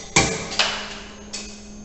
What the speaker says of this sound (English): then hammer is swinging and it will already strike the material and specimen get failed